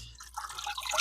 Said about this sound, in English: Let it drip dry a little.